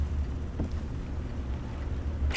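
A motorboat in the Call of the Sea game idles with a steady low engine rumble, sitting close and constant beneath faint wind and water noise, with no talk over it.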